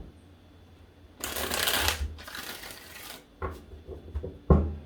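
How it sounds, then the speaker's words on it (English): Tarot cards riffle in two quick bursts, crisp flapping shuffles close up, followed by softer taps and squaring of the deck. "I'm going to give this 3 shuffles."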